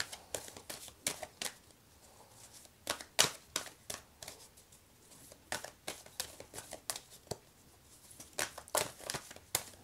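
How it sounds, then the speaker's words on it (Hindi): Tarot cards being shuffled and drawn: quiet, close rustles and crisp flicks of card stock in irregular bursts, with soft slaps between them and no talking. "एक और कार्ड ले लेते हैं।"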